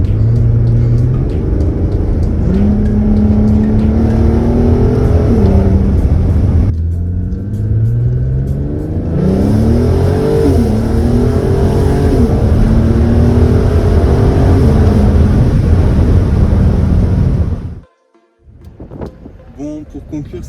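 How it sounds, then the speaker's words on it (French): An Audi TT 3.2 V6 with DSG gearbox roars loudly at high revs, pulling through long gears in rising sweeps with a brief shift break, before cutting off abruptly near the end. "quand je commence à tirer les rapports un peu plus longs, là ça commence à bien gueuler"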